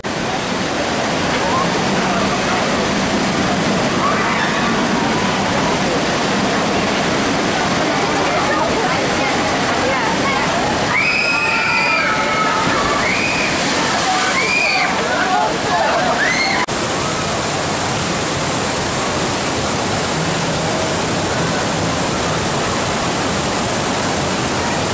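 Steady, loud rushing and sloshing of water on the Storm Force 10 water ride at Drayton Manor theme park, a continuous roar that swells briefly midway.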